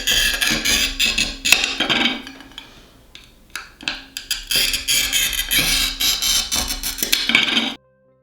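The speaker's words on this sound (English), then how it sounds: "This is a brand new cutter, so that is a nice, crisp scoring sound." A new glass cutter scores stained glass in a series of crisp, close scratching strokes with short gaps between them, bright and fairly loud, ending abruptly in silence.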